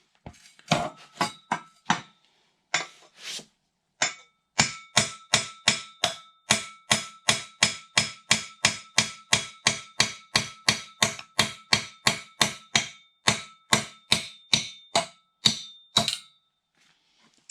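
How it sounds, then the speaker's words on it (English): Sharp metallic hammer strikes ring out in a long, steady series as an exhaust stud is knocked out on a Porsche 996, a few hesitant blows first, then dozens of rapid, evenly spaced hits close by. "I'm going to take a hammer."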